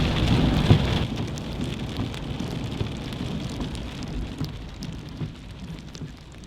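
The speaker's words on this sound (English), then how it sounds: "It's still raining very hard" Heavy rain pours steadily in Canmore, a dense continuous hiss on the ground and surfaces, loudest at the start and easing slightly, with no voices.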